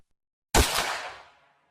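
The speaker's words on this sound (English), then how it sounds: "I heard a gunshot." A single gunshot sound effect: one sharp, loud, close bang with a heavy low thump, followed by a rapidly fading echoing tail, alone with no voices.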